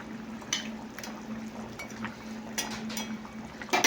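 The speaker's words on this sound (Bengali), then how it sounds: "দেখো এটা ফুটছে" A pot of fish curry bubbles at a low simmer, soft popping and faint liquid blips coming at irregular intervals against a steady background hum.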